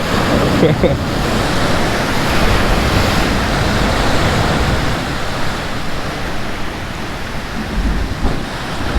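Loud, continuous roar of Atlantic surf on the Portuguese coast with waves breaking close by, a dense rushing wash that swells and eases slightly.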